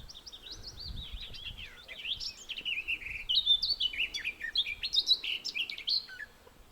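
Several small birds chirp and trill in quick, overlapping bursts, fairly clear against a quiet outdoor background in the Carpathian mountains with no voices.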